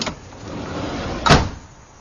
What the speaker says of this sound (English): Or we can close both doors.